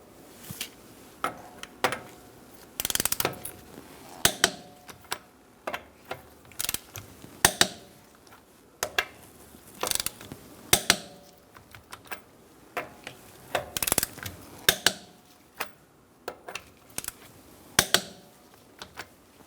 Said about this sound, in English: Using a 19mm socket, we're going to torque our wheels to 100 foot-pounds.